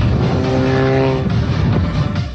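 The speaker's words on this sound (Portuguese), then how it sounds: "O ronco ficou mais alto." Modified car with a performance chip and aftermarket exhaust, its engine giving a loud, deep, continuous roar at close range with rising harmonic tones.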